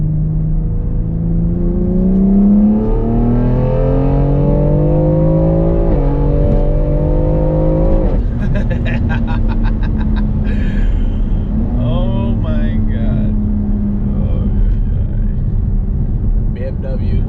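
A 2020 BMW X3 M SUV drives on a road and accelerates, its engine note rising through gears with loud, steady rumble and whir close up, while people talk over it.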